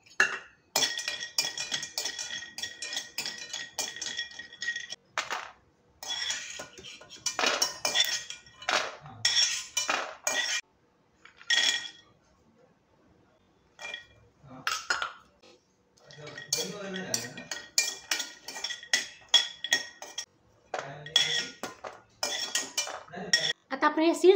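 Flax and other seeds being dry-roasted in a pan for dry fruit laddu, a spoon scraping and clinking against the metal in repeated bursts of stirring with short pauses, close and fairly loud, no talk.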